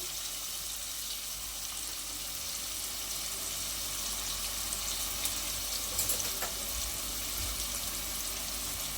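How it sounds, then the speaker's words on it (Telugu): Chopped onions with salt sizzle in a hot pan, a steady, even hiss with occasional faint stirring scrapes, lasting throughout without talk. "ఉల్లిపాయలు త్వరగా మగ్గడానికి నేను ఇందులో సాల్ట్ యాడ్ చేస్తున్నాను"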